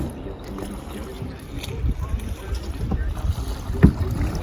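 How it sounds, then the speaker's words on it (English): Wind rushes over the microphone aboard a sailboat leaving Chance Cove in the morning, a steady low buffeting with water sloshing against the hull and a brief knock near the end. "Beautiful wind for heading back."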